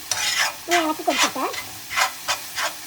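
Asparagus sizzles in a hot pan while a spoon scrapes and stirs in several short bursts, loud and close.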